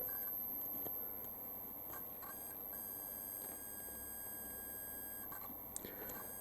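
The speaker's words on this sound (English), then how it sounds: "That's why the beeping keeps coming and going." Intermittent electronic beeping from a meter testing a dirty, flaky capacitor in a 1973 Pye CT200 colour television, a thin high tone cutting in and out over a low background hum, quiet and close.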